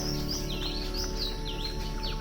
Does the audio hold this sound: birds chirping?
yes